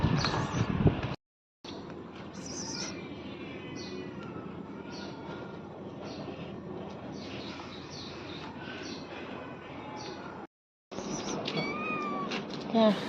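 A house cat meows again and again at close range, cries repeating every second or so over a low background rumble, with two brief silent gaps.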